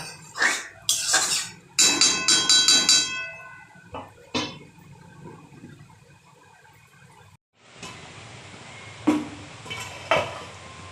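Metal pot lid clangs and rattles onto a pot of cooking meat, several sharp ringing knocks in quick succession, then quieter handling sounds and a few soft clinks.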